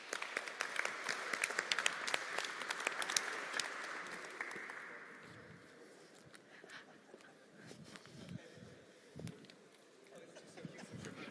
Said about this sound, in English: please can we give Patrick a huge round of applause